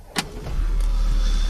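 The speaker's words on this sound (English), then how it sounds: "So if we go to turn on the car," A 2017 Audi A5 S Line Cabriolet starts up close by: a brief click and whirr, then the engine catches and settles into a steady, even idle that continues to the end.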